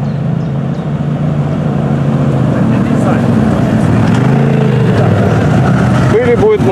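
Quad bikes and buggies on the introductory lap of a Ukrainian cross-country championship race, a continuous engine drone with rising and falling revs as machines pass at mid-distance.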